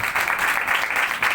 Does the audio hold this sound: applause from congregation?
yes